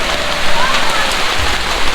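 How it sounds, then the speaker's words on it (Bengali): Heavy rain pours down on a flooded street, a loud dense steady hiss of drops hitting surfaces close around, with no distinct voices. "আর অনেকদিন পর বৃষ্টিতে ভিজতেছি আমি"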